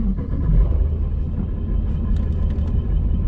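Loud, steady low engine rumble from a ProCharged 5.7 Hemi Dodge Challenger, heard from inside the car with the windows up and the back seats out, droning continuously without a break.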